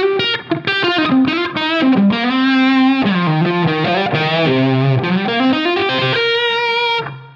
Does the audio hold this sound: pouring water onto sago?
no